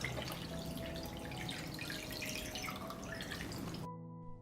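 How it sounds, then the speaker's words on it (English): Water pours steadily into a pot holding closed glass jars of preserved fruit, a continuous close splashing stream that stops abruptly near the end. "Pour water up to the height of the lid."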